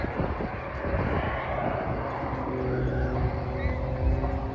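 An airshow aircraft with a main engine and two small mini jets roars steadily and loudly, a continuous broad engine drone with a faint whine rising near the end.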